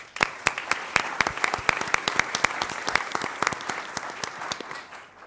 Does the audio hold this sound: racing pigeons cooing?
no